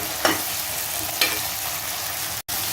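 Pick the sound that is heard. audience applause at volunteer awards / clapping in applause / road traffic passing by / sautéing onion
sautéing onion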